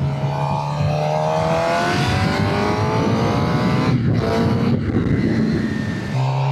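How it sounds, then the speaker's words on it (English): A Suzuki GSX-R 600 motorcycle revs loudly and continuously through its stock exhaust, engine pitch climbing steadily through the gears with brief dips at shifts, heard close and alone. "Stock exhaust is not bad on this bike."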